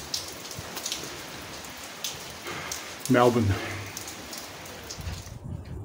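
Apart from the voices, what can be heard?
sudden rain shower on a van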